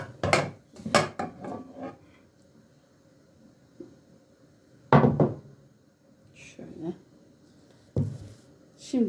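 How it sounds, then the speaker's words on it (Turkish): Fried vegetables, peppers among them, are tipped into a cooking pot for orman kebabı, giving a series of clattering knocks and thuds of metal and utensils in bursts separated by quieter gaps, close by, with occasional speech. "Şimdi arkadaşlar kızarmış olduğum sebzeler şimdi tenceremize bunları ilave ediyoruz."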